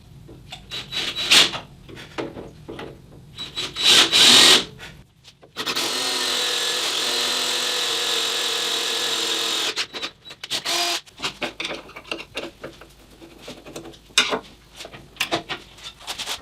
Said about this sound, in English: I'm actually going to use a center drill to better mark the hole.